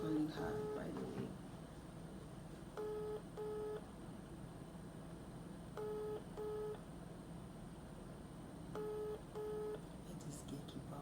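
A phone's ringback tone plays while a call goes out, sounding as repeated double-pulse tones in three cycles about three seconds apart, faint over a quiet background murmur.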